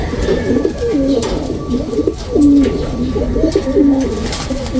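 Homing pigeons coo in a steady, rolling series of soft, throaty calls, close and fairly loud, while the birds bathe, with faint background noise under the calls.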